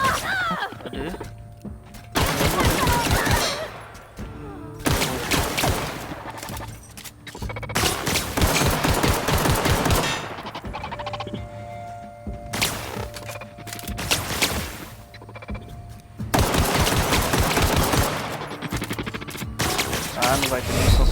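Bursts of rapid gunfire from The Outer Worlds, loud repeated volleys with brief gaps between them, mixed with game effects and occasional speech.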